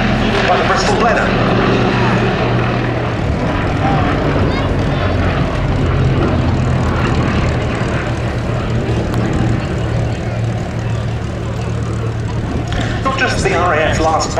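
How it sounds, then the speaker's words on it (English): At the Duxford Battle of Britain airshow, a Gloster Gladiator biplane's engine drones loud and continuous as it takes off, with an announcer's voice running over the propeller roar. "As the Gloster Gladiator gets airborne to be followed by the Bristol Blenheim."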